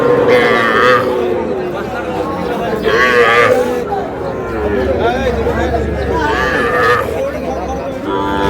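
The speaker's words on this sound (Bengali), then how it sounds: "ষাঁড় বাচ্চা" A young bull calf at a cattle market moos repeatedly in long, loud, drawn-out calls, with crowd chatter and talking around it.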